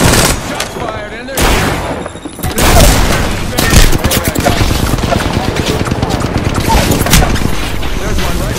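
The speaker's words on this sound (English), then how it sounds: "Shots fired" Rapid bursts of automatic gunfire and sharp impact shots in the battle royale video game Apex Legends, loud and dense, continuing almost throughout with brief breaks near the start.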